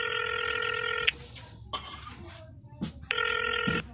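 Ringback tone of an outgoing telephone call going unanswered: two long ringing bursts separated by a pause, with brief noises and faint background sounds in the gap.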